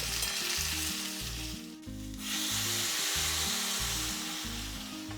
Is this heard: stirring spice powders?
yes